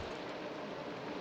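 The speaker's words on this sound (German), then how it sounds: "Und ich muss kurz den Regen ausstellen." Steady rain from the video game Minecraft hisses continuously as a dense, even wash of noise, moderately loud and unbroken with no voices over it.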